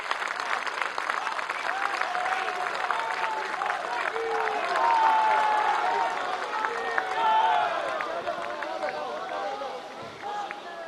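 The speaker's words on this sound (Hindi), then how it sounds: "उनका जोरदार तालियों से स्वागत किया जाए।" A large outdoor crowd at the Victoria Memorial in Kolkata claps to welcome a speaker, a sustained, moderately distant roar of applause with cheering and voices mixed in.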